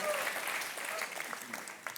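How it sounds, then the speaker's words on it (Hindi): A TV quiz show studio audience applauds steadily for about two seconds, a dense even patter of many hands close by that softens slightly near the end. "तालियां बजती रहनी चाहिए।"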